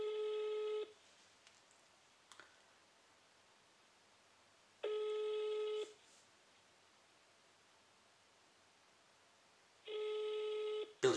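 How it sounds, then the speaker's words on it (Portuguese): A telephone call goes unanswered: three evenly spaced ringback tones, each about a second long, repeat at roughly five-second intervals over a quiet line, with a brief faint click in between. "Então, vamos lá ligar."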